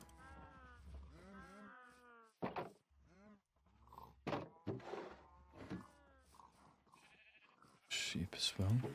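Sheep bleat in short wavering calls, several voices overlapping at moderate distance, interspersed with brief sharp noises and other animal sounds in a rough outdoor fantasy setting.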